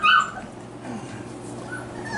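Young puppies whimper and yip softly at close range in a short, high, plaintive burst that is loudest at the start, outdoors in the cool morning.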